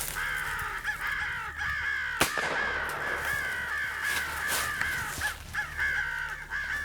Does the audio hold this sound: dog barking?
no